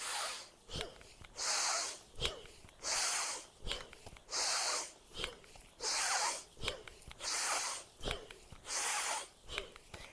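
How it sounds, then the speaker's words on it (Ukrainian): Forceful rhythmic breathing during a Kundalini yoga exercise, sharp exhales and inhales alternating steadily about every second, close and loud, with no talking. "От прислухайтесь, як я зараз дихаю."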